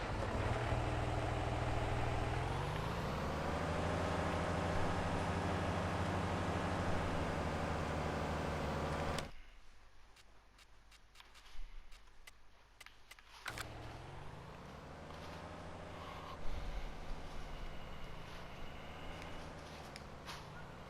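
Tractor engine in the Farming Simulator 19 console game, a big 235-horsepower machine, droning steadily with shifting revs, cutting out briefly mid-clip before the engine sound returns.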